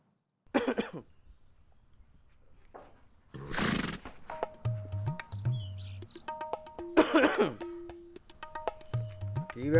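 Several dry, tickly coughs and throat clearing from a nearby person, mixed with voices and music.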